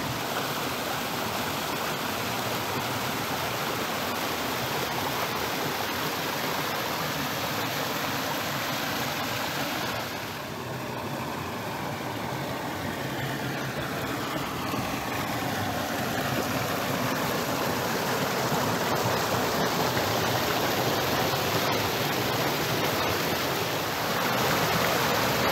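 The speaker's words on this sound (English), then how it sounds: "Here's the waterfall." A small, short waterfall where a waterway cuts through a rock layer in the Washitas rushes in a continuous, even roar of falling water, steady and fairly close throughout, with no voices.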